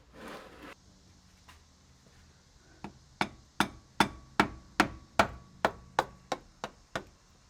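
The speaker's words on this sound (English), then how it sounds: "Oh, I may need a hammer, Harley." Sharp metallic hammer blows strike a vehicle's differential cover, starting with a few scattered hits and then a rapid, even series of about a dozen loud, ringing knocks.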